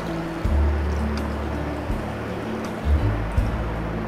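Water poured into a pan of sautéed cabbage, giving a steady low gushing rush with a few louder splashes and sizzling surges, no talking over it.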